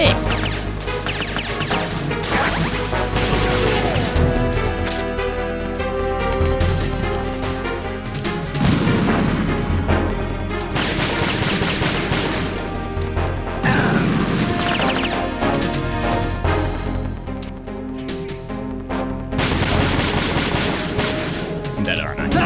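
Repeated heavy booms and crashing cannon blasts from Metal Gear Solid 2, loud and close, coming in bursts with chaotic gunfire-like noise between them.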